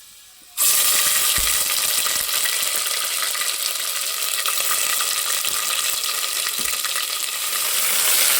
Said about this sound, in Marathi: आणि असं आता ढवळून घ्यायचं, छान मिक्स करून घ्यायचं छान असं